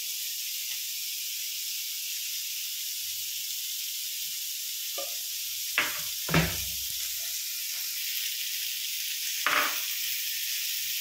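White pasta premix sizzling in a pan, with a steady, even hiss running throughout and a few brief soft knocks and stirring scrapes near the middle and end.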